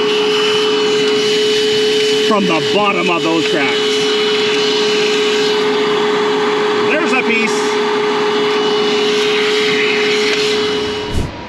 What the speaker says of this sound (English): Well, I did quite the vacuum job on that bedrock there.